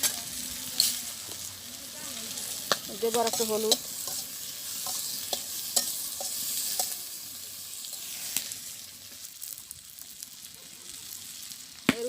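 Onions frying in a pan with salt and turmeric, stirred with a ladle, a steady sizzle broken by scraping stirs and clinks, a voice speaking briefly over the cooking.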